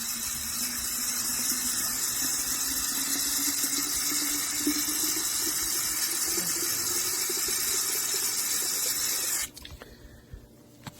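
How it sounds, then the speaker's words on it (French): Tap water runs steadily into a garden sprayer bottle, a liter being filled for a baking soda and olive oil plant treatment, a continuous rushing hiss with a faint rising tone as the bottle fills, stopping abruptly near the end. "On met de l'eau pour remplir le pulvérisateur, 1 litre"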